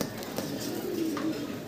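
A pair of black Staser pigeons coo in a low, continuous murmur, close and moderately loud.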